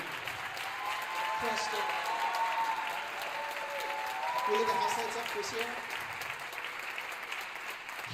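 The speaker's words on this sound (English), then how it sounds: "round of applause" Audience applause fills a school spring band concert hall, sustained clapping that swells slightly midway while an announcer speaks over it.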